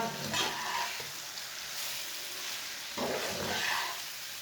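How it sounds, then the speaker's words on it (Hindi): Spices and green chillies frying in a pan for mixed pickle: steady close sizzling with two louder bursts of stirring and scraping, no voices. "अच्छी तरह मिक्स करके 2 मिनट के लिए दोबारा भून लेंगे।"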